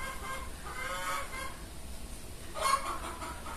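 Chickens cluck and honk faintly in the background of an outdoor setting, with a louder burst of fowl calls near the end and no talking.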